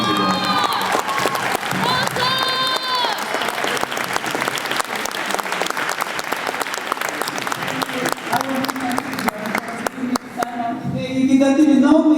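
An audience at a cruelty-free fashion show claps continuously in a dense, sustained round of applause. It swells slightly near the end, with faint voices and murmurs mixed in.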